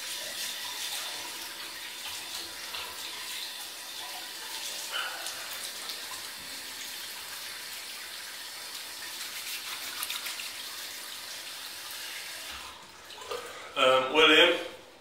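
Tap running for a rinse after a shave, a steady, moderately close stream of water from a bathroom faucet that stops near the end, followed by a brief splash.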